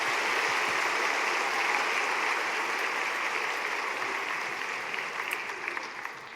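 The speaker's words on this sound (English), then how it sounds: "give yourselves a round of applause" A room of high school oratorical contest attendees claps together in a dense, steady wash of applause that holds strong and then slowly tapers off, with no talking over it.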